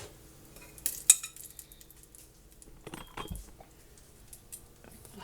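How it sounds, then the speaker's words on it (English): Browned chuck roast and large onion cubes clatter into a hot pan with a few sharp metallic knocks and scrapes of a utensil, then softer shuffling, close and without talk. "I'm going to add our browned meat, and the other half of that onion I did in large cubes."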